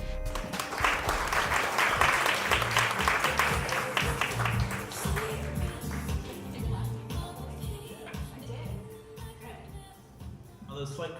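Audience applause rises to welcome a guest to the stage at a virtual-reality shopping event, a dense wash of many hands clapping that peaks early, then slowly thins and fades over about eleven seconds.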